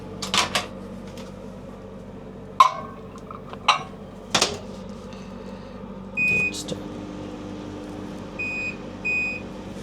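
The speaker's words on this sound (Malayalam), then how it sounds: "ഇതൊന്ന് മൈക്രോവേവ് ചെയ്യണം." Microwave oven at a winter campsite being loaded and started, with cupboard and dish clatter, a door clunk, steady hum and a few short electronic beeps near the end.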